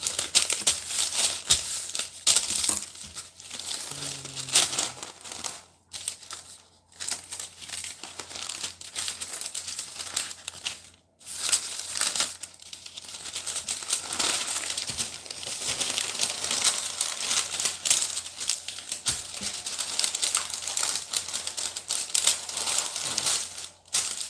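Paper sheets crinkling, crumpling and tearing up close while patties are prepped in a home kitchen for freezer storage, with brisk, irregular rustling bursts and brief pauses throughout.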